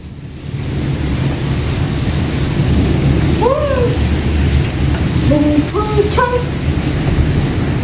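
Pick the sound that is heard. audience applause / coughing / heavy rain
heavy rain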